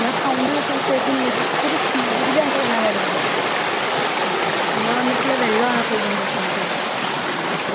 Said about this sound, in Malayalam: നല്ല ഒഴുക്കിലാണ് കേട്ടോ വെള്ളം വരുന്നത്